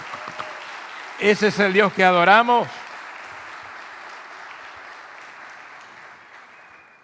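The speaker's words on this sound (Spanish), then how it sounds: "Yo le aplaudiría con más ganas a Dios." A church congregation claps briefly for God, a short burst of applause that rises over a preacher's voice and ends quickly. The preacher keeps speaking in Spanish over a faint, steady background.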